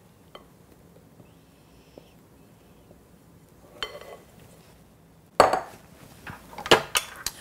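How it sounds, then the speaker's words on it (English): Cake batter with flour being mixed in a bowl, quiet at first with a couple of faint clinks, then bursts of scraping and knocking from a utensil against the bowl, close and without talk. "while we are mixing our cake batter"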